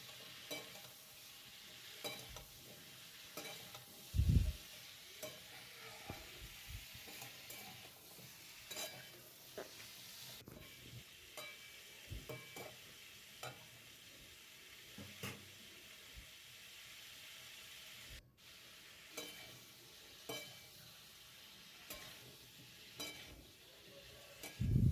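Carrots and beans fry lightly in a pan for a vegetable khichdi, a soft, steady sizzle with occasional stirring scrapes and clatters, faint and continuous with no talking.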